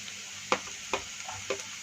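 Chopped onion fries in a pan with a steady, faint sizzle and hiss. A few sharp taps and scrapes from stirring land at intervals over it.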